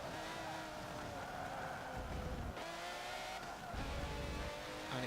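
An early 1980s Jaguar race car in Forza Motorsport 7 drives hard, its engine revving loudly with shifts and surges, and brief tire squeal as it corners.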